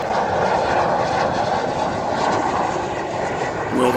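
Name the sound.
fighter jet flying in for landing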